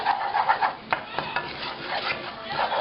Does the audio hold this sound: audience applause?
no